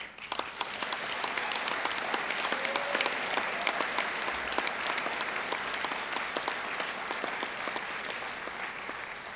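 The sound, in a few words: applause for the components' workers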